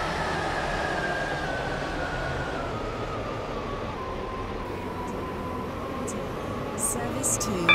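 A three-coach passenger train runs between stations on the Benton to Esterfield line, a steady rumbling drone with a faint tonal whine heard from inside, and a few brief clicks near the end.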